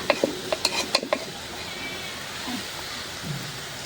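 A handful of quick metallic clinks and scrapes against a pan, then a steady soft sizzle of fish frying underneath.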